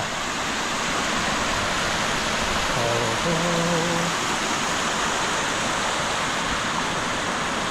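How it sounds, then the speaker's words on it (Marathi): Clear, bright blue stream water babbles and rushes over a rocky course in rural Konkan, Ratnagiri, just as rain begins; a constant, loud, even wash of flowing water with a brief faint tonal sound partway through. "वाव खळखळणारं निळभोर असं स्वच्छ पाणी बघा"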